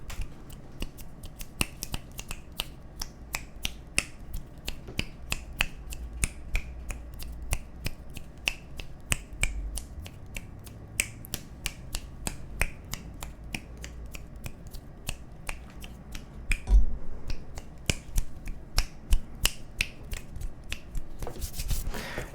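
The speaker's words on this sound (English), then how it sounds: "Somebody said I should snap my fingers" Sharp, close finger snaps repeat in a quick, fairly even rhythm throughout, dry and crisp against a quiet background with no talking.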